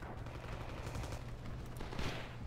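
Close artillery and gunfire in the Rising Storm 2 video game, a faint, steady crackle of distant shots with a sharper burst near the end.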